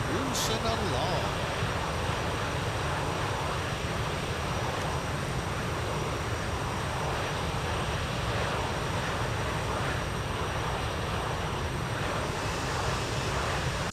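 Boeing 747-200 engines cruising in a flight simulator, a steady broad drone with low rumble holding evenly throughout, with no talking heard.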